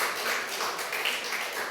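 Church congregation applauding as middle and high school students are called to the front, a steady, fairly quiet wash of clapping throughout.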